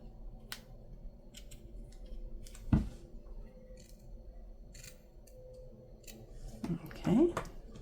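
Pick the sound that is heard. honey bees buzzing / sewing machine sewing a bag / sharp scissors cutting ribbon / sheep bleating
sharp scissors cutting ribbon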